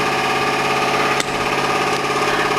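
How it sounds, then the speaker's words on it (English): A power driver spins bolts off a Ford Mondeo with a steady, loud, humming whir, broken by a brief click partway through, with no talking. "there's the power driver."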